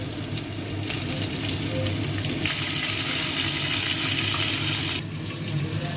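Nigella seeds and green chili hitting hot oil in a Bengali drumstick and poppy seed curry, a loud broadband sizzle that surges sharply mid-way before settling back, with no talking.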